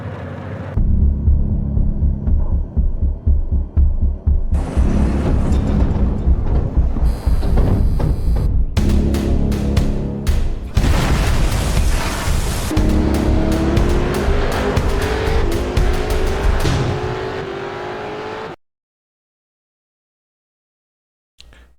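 Train departing in the Derail Valley railway simulator game, loud continuous engine rumble and rolling mechanical noise that builds and shifts before cutting off abruptly near the end.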